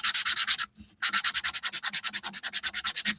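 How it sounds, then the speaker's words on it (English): Rapid rhythmic strokes of hand sanding rasp back and forth over a prop rifle part, close and steady, with one brief pause before the scrubbing resumes. "So I'm sanding all of the surfaces on this."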